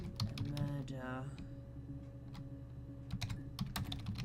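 Clicky typing on a noisy computer keyboard, rapid irregular keystrokes close by with a soft voice speaking over it.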